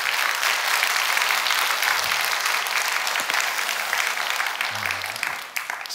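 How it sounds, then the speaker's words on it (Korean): Sustained applause from a large church congregation fills the whole stretch, dense and steady clapping with a faint murmur of voices underneath. "인사할 때 여러분 박수 한번 해주실래요?"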